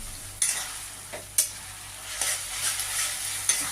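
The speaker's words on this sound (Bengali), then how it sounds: "এবার মশলাটা একটুখানি হয়ে গেলে আমি মাংসটা ছেড়ে দিই" Chicken meat sizzles in a pan of frying spice paste, a steady hiss with repeated scraping stirs and clinks of the spoon, close up with no talking.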